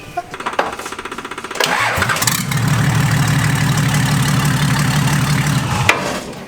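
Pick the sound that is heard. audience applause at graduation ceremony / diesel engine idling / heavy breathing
diesel engine idling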